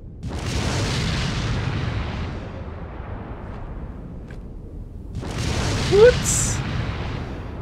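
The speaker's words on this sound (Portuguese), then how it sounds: "E é tanto uma granada explosiva." An explosive grenade goes off in the survival-horror game Resident Evil 4, a loud blast with a long rolling decay, followed a few seconds later by a second heavy explosion, with a brief exclamation from a player in between.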